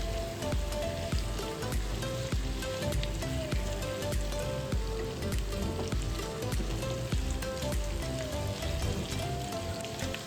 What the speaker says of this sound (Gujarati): બાફેલા બટેટાના ટુકડા કરીને રાખ્યા તેને પણ આપણે એડ કરી દઈએ અને તેલમાં છે ને આપણે મિક્સ કરી દઈશું